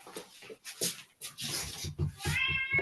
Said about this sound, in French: On l'entend miauler